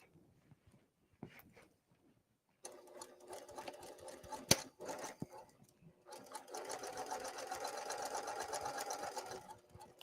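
A sewing machine runs along a 1/2 inch seam allowance, first in a short burst, then after a pause in a steady rapid stitching rattle that continues for several seconds, close and clear with brief clicks between runs.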